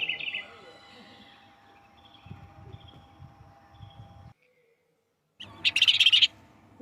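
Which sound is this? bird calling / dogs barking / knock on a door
bird calling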